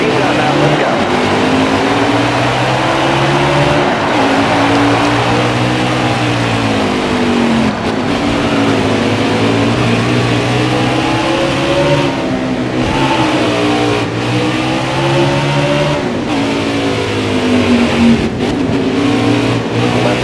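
In the NASCAR Heat video game, a field of stock car engines roars loud and steady at the green-flag start, with layered revving pitches rising and falling continuously throughout.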